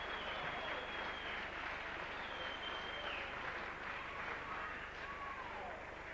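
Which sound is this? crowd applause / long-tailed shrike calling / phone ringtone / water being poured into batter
crowd applause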